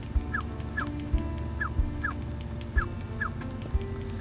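A dog whimpers in Harvest Moon: Tree of Tranquility, giving short high whines roughly every half second over a soft game music background, with no talking.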